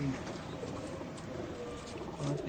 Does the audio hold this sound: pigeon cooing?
yes